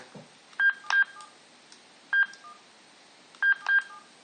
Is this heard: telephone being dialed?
yes